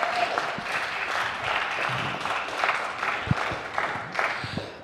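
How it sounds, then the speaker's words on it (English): Audience applause at a junior tennis championship final on an outdoor court, steady clapping from a modest crowd lasting several seconds, fairly close and even, with no one speaking over it. "Let's have a round of applause for our first player."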